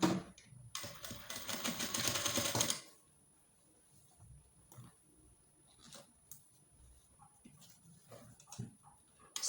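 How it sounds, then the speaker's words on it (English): A sewing machine stitches fabric onto a corset busk, running in a loud, fast mechanical patter for a few seconds and then stopping, followed by quiet handling clicks. "I will go to the sewing machine and I'll press it down"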